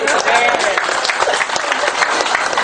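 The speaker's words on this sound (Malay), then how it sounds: "terima kasih tepukan buat Encik Pandit Doraisamy Laksmana" A crowd applauds Pandit Doraisamy Lakshamanan after his testimony, a dense, steady roar of clapping close by with voices mixed in underneath.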